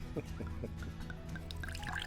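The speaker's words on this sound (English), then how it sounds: "that looks like a healthy pour" Russell's Reserve 10-year bourbon trickles from the bottle into a glass in a short, steady pour with faint liquid dribbles, heard close up under low room noise.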